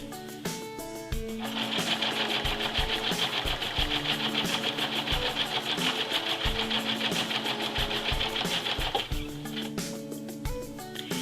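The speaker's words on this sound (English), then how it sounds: "when you have all this down on the machine to sew the lining, you may as well reinforce the seams" A sewing machine stitches coat lining seams in one steady, continuous run of fast mechanical whirring, close and loud, with faint clicks as it starts and slows near the end.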